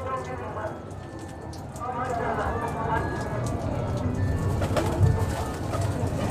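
Pigeons coo at a breeder's loft, among them a lakha female and her mate, a broad-feathered Rampuri breeding pair, with a faint patter like light rain underneath and a person talking over the sound throughout.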